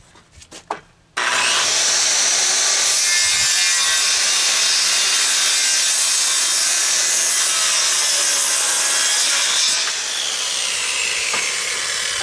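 Rough-cut white pine lumber being sawn into parts for 5/12 16-foot trusses, a loud, steady power-saw cut running continuously after a brief quieter start.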